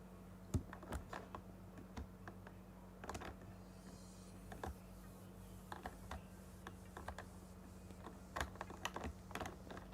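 Keys clacking on a standard basic Logitech keyboard, irregular bursts of typing that sit fairly quiet under a steady low background hum.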